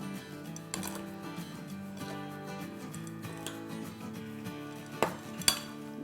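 A spoon clinks and scrapes against a bowl while garlic paste is stirred together with citric acid for a spicy carrot pickle, with a few sharper knocks near the end and a steady hum of background music.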